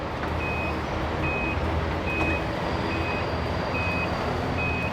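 A truck with a trailer backs up in a parking area, its reversing alarm beeping at a steady rhythm over a continuous engine rumble and broad outdoor noise.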